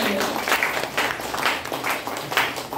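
An audience at a presentation claps in rhythmic waves, the applause rising and falling in several surges over a short stretch.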